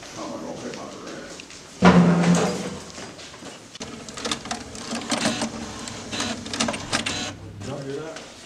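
A printer runs with mechanical whirring and clunks for several seconds, starting with a loud thump, while people talk over it.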